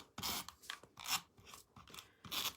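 Scissors cutting through a one-inch quilt fabric strip, several short crisp snips in a quick irregular rhythm, close and fairly quiet with no talking.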